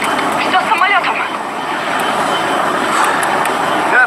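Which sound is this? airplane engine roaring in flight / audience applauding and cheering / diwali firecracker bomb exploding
airplane engine roaring in flight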